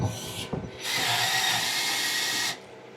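A power drill drives screws into the rails of a Tacoma Rubicon, with a short burst, a pause, then a long steady whine that cuts off sharply, close and loud.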